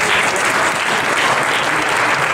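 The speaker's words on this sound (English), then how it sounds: "I'll give her a round of applause." An audience at a Meriden town meeting breaks into applause, a dense and even burst of clapping from many hands, loud and close throughout and mostly free of speech.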